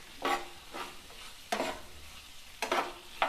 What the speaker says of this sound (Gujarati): તો આવી રીતે બધું સરસ મિક્સ કરી લેવાનું છે મિત્રો